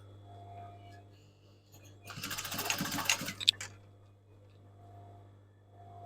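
A sewing machine top stitches a folded leg hem on a pair of tasseled shorts, one steady, buzzing run of about a second and a half, close and clear against a quiet room.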